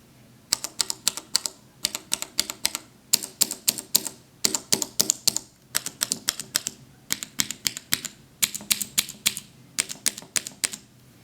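Cherry MX mechanical keyboard switches click on a switch tester in bursts of rapid, crisp keypresses, each run separated by short pauses, close up with no talk.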